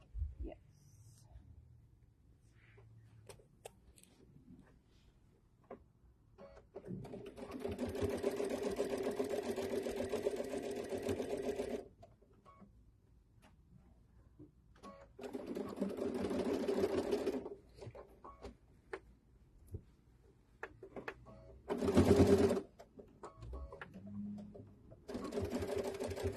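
A sewing machine stitches a Mother's Day tote bag in several steady bursts of whirring, each a few seconds long, separated by quiet pauses, with a brief louder mechanical clatter near the end and a voice talking quietly at times.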